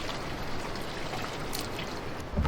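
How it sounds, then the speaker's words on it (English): Water pours steadily into a camper van toilet cassette, a continuous close gurgling rush with a slight knock near the end. "We're going to pop some more water in there"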